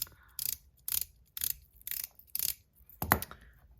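Titanium Top C fidget top spinning and clattering on a surface, with five evenly spaced bursts of metallic rattling about half a second apart, then a sharper final clunk, heard close and alone.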